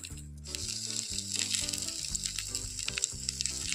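A ground paste of poppy seeds, green chili and cumin hits a hot pan and sizzles steadily up close, a bright hiss running over soft melodic tones in the background.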